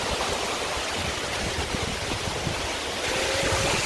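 Waves wash in steadily at a beach beside a river mouth, a broad continuous roar of surf and flowing water with no voices.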